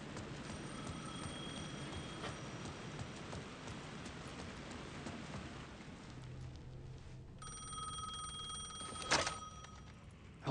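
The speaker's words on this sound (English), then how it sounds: "The phone was ringing again." A telephone rings inside the Alan Wake 2 video game, a bright electronic trill heard early and again near the end over a low, murky ambient backdrop.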